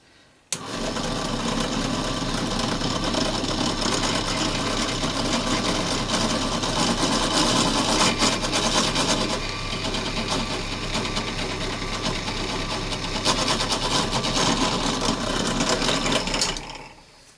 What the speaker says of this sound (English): I always start with a much smaller drill bit than I need